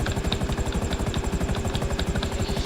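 Mi-24 Hind A helicopter in the GTA 5 video game, its rotor beating in a steady fast chop with a loud, continuous engine drone throughout.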